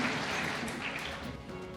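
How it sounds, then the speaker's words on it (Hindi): Steady, broad applause at a formal Independence Day gathering honoring a chief guest, sustained crowd clapping that holds at an even level from start to finish. "और जोरदार तालियां एक बार"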